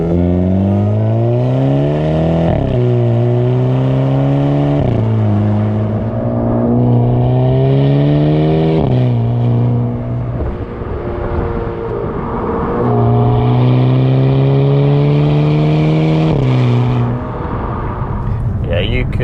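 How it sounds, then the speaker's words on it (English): A Hyundai Kona N performance SUV's engine revs up through several gears, its exhaust note climbing and dropping at each shift, loud and close throughout. "I want to record some exhaust noises for you"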